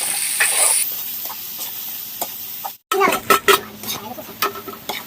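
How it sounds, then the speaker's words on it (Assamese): Potato, sweet pumpkin and ash gourd frying in a pan at an outdoor field kitchen, stirred by a man cooking: a bright sizzle fades, cuts out briefly, then returns with scraping, clattering stirring strokes. "নিৰামিষ ভাজি বনাই আছে, আলু, ৰঙালাও, কোমোৰা এনেকুৱাকৈ"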